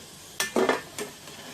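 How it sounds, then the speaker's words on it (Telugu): Bread gulab jamun balls fry in oil over a medium flame, a short close burst of crackling with a couple of quick clinks and scrapes as they are moved. "మీడియం ఫ్లేమ్లో ఫ్రై చేసుకుందాం"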